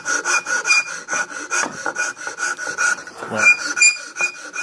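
A hand file rasps back and forth in a slot cut into wood, a steady fast rhythm of close, gritty strokes, with one brief spoken word at the start.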